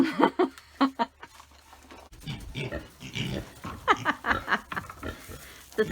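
Pigs grunt and oink in short bursts close by at a farmer's market in Virginia's Shenandoah Valley, mixed with a person talking over them.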